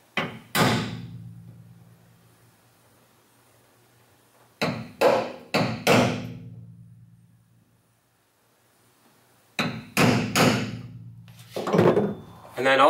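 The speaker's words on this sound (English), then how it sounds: "I like to center punch it" A hammer striking a center punch to mark a mounting slot on a pickup truck bed storage box, sharp metallic taps in a few separate clusters, close and loud, with a resonant ring after each hit.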